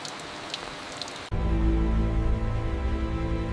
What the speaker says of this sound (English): Even rain becomes an accomplice.